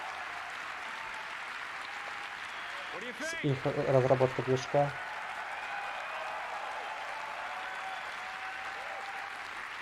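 Audience applause at the Apple WWDC 2019 keynote runs as a steady clapping wash beneath someone speaking over it, with a short louder stretch of voice midway.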